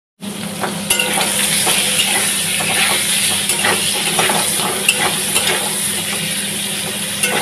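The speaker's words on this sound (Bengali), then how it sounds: "আলুটা একটু লঙ্কার গুঁড়ো, হলুদ গুঁড়ো আর নুন দিয়ে ভেজে নিচ্ছি" Potatoes frying with chili powder, turmeric and salt in a pan, a steady loud sizzle running throughout with occasional stirring clinks and scrapes, no talking.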